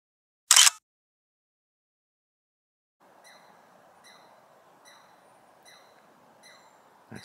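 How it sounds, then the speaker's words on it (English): A short sharp click, then a faint small bird chirps repeatedly in quick, evenly spaced notes, distant and quiet against otherwise still air. "He heard me snapping photos and just started chirping up."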